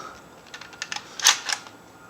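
Bolt of an Umarex Legends MP40 .177 caliber air gun being pulled back, a quick series of faint dry mechanical clicks and slides ending in one louder metallic clack, close up and alone.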